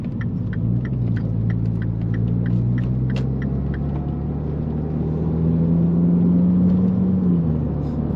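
A Mini Cooper S R56 pulls away with a low engine drone that climbs in pitch as it accelerates, heard from inside the cabin over road rumble with faint ticking.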